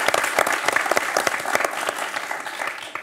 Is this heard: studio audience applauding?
yes